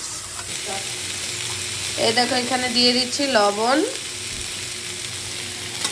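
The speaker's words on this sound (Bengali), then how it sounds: "এগুলো সবজিগুলো ভাজা হয়ে গেলে এর মধ্যে একে একে দিয়ে দেব নুন আর হলুদ গুঁড়ো" Vegetables for a jatka fish curry sizzle and fry steadily in a pan while being stirred, a constant close hiss with someone speaking briefly over the middle.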